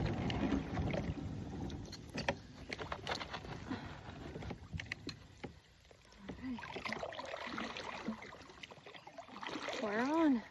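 Kayak paddling on the Brazos River: soft splashes and dips of the paddle with water swirling along the hull, steady and close, under faint wind and occasional background noise.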